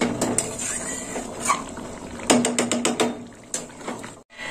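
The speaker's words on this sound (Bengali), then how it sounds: "এবার ঢাকা দিয়ে দেবো" A lid goes onto a metal cooking pot of simmering elephant-foot yam (ol) kalia curry, with a run of close, sharp metallic clinks and knocks followed by a brief moment of silence.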